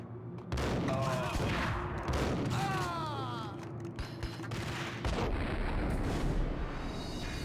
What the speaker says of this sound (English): Somebody's chucking a grenade that hits me perfectly every time, no matter where I stand.